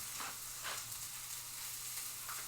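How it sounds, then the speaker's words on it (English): Passata goes into a hot frying pan, bringing a steady, loud sizzle with a few brief surges as the liquid hits the pan. "And pour the passata in."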